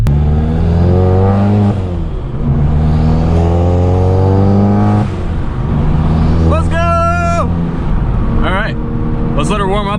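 A VW Golf MK7 engine revs hard on the road, climbing and dropping in loud, close pulls, with a voice speaking over parts of it.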